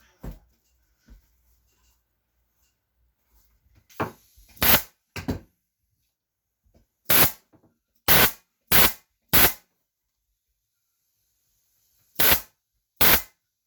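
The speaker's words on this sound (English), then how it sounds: "This staple gun has been my faithful one." A staple gun fires upholstery fabric onto a kitchen chair seat in sharp, loud snaps, several spaced shots and a few quick pairs, with quiet handling noise between them.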